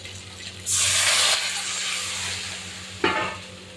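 Water poured into hot oil over fried hilsa fish, a sudden loud burst of sizzling hiss that gradually settles, followed by a second sharp splash and sizzle.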